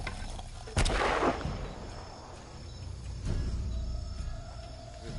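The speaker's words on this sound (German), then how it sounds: "Schmeißen wir mal da eine Bombe rein zu denen." A single sharp bomb blast goes off in Shadow of the Tomb Raider, loud and near, then a fainter later thud over a low ambient jungle bed.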